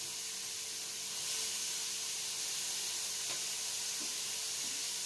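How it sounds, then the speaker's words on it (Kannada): Chopped cabbage added to a hot frying pan for vegetable fried rice gives a steady close hiss and sizzle that swells slightly as the cabbage goes in, then holds evenly with no talking. "ಈ ಟೈಮಲ್ಲಿ ಕೋಸು ಚಿಕ್ಕದಾಗಿ ಕಟ್ ಮಾಡಿ ಇಟ್ಕೊಂಡಿದ್ನಲ್ಲ ಅದು ಹಾಕ್ಬೇಕು"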